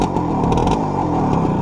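A Romet Ogar 200 motorcycle, fitted with a new filter and new coils after a major breakdown, idling steadily nearby with a continuous low, even engine drone.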